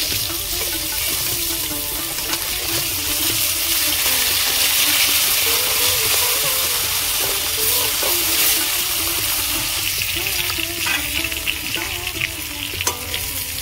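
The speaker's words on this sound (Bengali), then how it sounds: "একটু ভাজা হয়ে গেছে, উল্টে দেবো।" Katla fish pieces sizzle in oil in a kadai after being turned over. The frying is a continuous close crackle and hiss with occasional stirring scrapes, and no voices.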